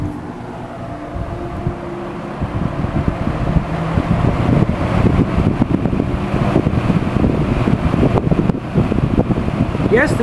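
A Toastmaster 5326 fan heater runs on its high setting with a loud, steady whooshing roar of blown air that builds slightly after the first couple of seconds and holds.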